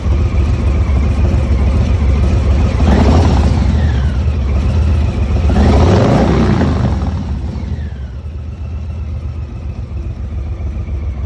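A 2022 Harley-Davidson FXLRST with slip-on exhausts runs close by, loud and throaty. It revs up twice in rising sweeps, then drops back to a lower, steady idle.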